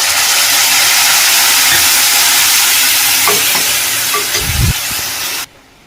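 Potatoes, green chillies and curry leaves fry in a pan for aloo pulao, making a steady loud sizzle with stirring scrapes. Yogurt drops in with a soft thud, then the sizzle cuts off abruptly.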